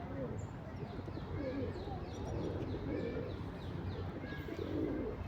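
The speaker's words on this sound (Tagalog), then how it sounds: "Look, there is a bird there also." A pigeon or dove coos in repeated soft, low phrases outdoors, heard under ongoing conversation among several people, with faint chirps from other birds in the background.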